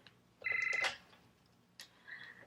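A telephone gives one short, sharp electronic trill burst, followed by a fainter second tone in an otherwise quiet room.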